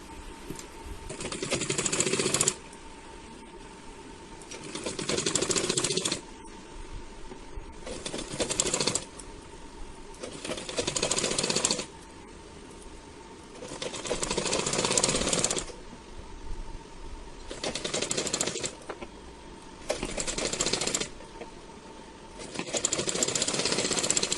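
A sewing machine stitches the lining fabric of a princess-cut blouse in repeated bursts of rapid whirring, each run a few seconds long and split by short pauses, with a faint steady hum between runs.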